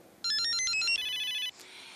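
A mobile phone ringtone plays a short electronic melody of rapid stepped tones, then a sustained chord, loud and close in a quiet indoor scene from a Persian TV series, with no talk.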